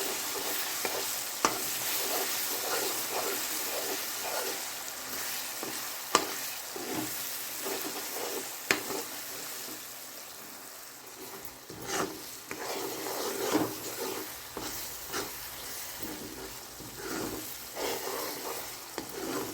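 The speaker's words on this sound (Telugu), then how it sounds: "ఇది పచ్చివాసన పోయేంత వరకు సిమ్లో పెట్టి వేయించుకోవాలి" A steady sizzle of onion paste frying in a pan over low heat, with repeated scraping and stirring strokes throughout and no talking.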